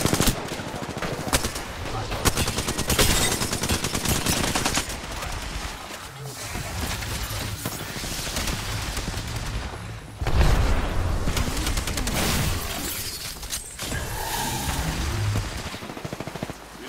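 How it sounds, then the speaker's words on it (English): Video game gunfire crackles almost continuously, with rapid machine-gun bursts and scattered shots layered over background music, loud and close throughout with brief lulls. "Who is shooting and from where"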